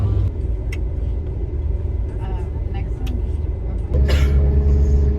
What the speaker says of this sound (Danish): Så vi er på bussen nu.